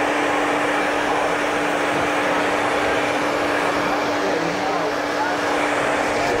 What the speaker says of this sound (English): So I've now moved over to finger drying.